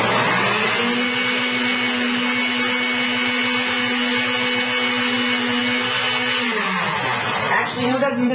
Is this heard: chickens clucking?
no